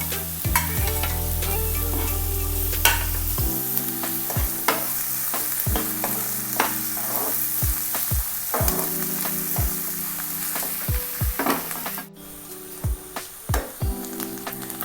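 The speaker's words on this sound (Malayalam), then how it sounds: "അതിനകത്തോട്ട് പച്ചമുളകും വെളുത്തുള്ളിയും ഇട്ട് കൊടുക്കാം" Green chilies and garlic frying with onions in a pan for paneer butter masala, a loud, close sizzle punctuated by repeated sharp spatula knocks and scrapes that come in irregular bursts and thin out near the end.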